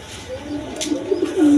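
Down-shaped quality pigeons, a breeding male and female pair, coo softly and close by in a sustained rolling call that rises and lengthens toward the end, with a brief flutter partway through.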